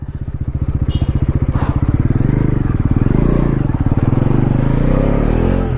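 A 400 cc motorcycle engine drones loudly and steadily during a ride, its rapid pulsing exhaust rising and falling with throttle, close to the microphone.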